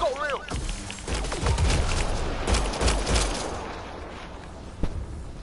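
Rapid gunfire in Mass Effect Andromeda, a dense burst of overlapping shots and impacts during a firefight, loud and close, then tapering to a lone crack near the end, with voices talking through it.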